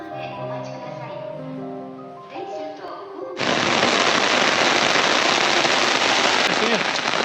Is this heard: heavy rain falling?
yes